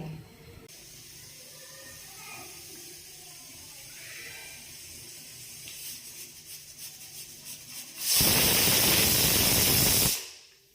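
A pressure cooker cooking broken wheat payasam releases a loud hissing whistle of steam for about two seconds, after a quieter stretch of faint kitchen background noise.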